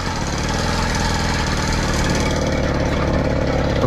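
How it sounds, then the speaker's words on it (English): A small engine on a motorized Cranbrook bicycle idles while the brake is held. It gives a loud, close, continuous mid-pitched putter that stays steady throughout. "Now I can apply my brake and leave the motor running."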